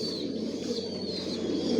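Racer pigeons in a loft produce a dense, continuous murmur of overlapping coos, steady and moderately loud with no pauses.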